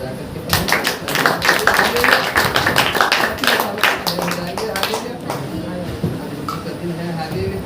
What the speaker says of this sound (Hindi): ताली बजा करके